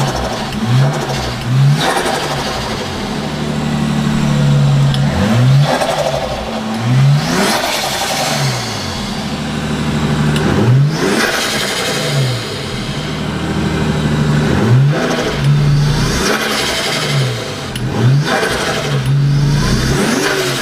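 A Nissan Skyline R33 engine, freshly fitted with an upgraded fuel pump, revs repeatedly in close, loud bursts, spitting and sputtering between blips as it settles back toward idle.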